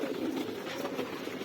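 Pigeons cooing in a continuous low murmur, fairly faint and steady throughout with no voices present.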